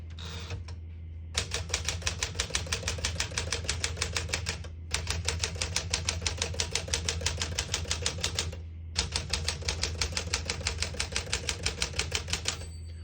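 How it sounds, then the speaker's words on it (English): Rapid, steady clatter of a 1960 Smith-Corona Sterling manual portable typewriter's keys striking, close and loud, in three long bursts separated by brief pauses, over a low background hum. "Once you hear the bell, you're at the end of the margin."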